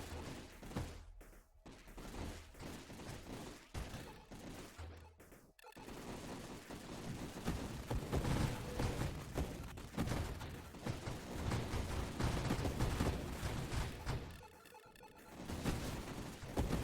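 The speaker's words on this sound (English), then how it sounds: "4 little homing bullets go out." Homing bullets fire in rapid bursts of dense crackling shots, with loud sustained gunfire and crashes and brief pauses between volleys.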